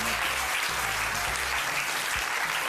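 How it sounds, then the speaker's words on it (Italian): Audience applause fills a dance performance in Italy, a continuous, loud wash of clapping throughout with no voices on top. "Un bel applauso a Maria Immacolata Zuddas"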